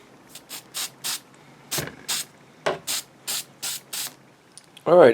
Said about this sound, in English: spray adhesive.